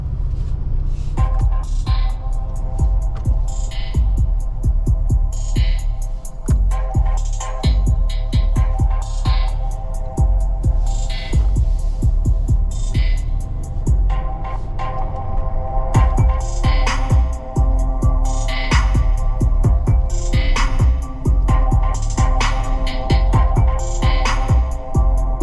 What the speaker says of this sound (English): Let's hear the sound system.